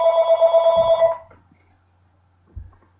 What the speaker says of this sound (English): My phone went off.